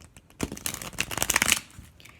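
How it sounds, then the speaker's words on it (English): Tarot cards riffle and flutter rapidly in a close, crisp burst that swells and then trails off into a few soft taps. "do that classic playing card shuffle with it"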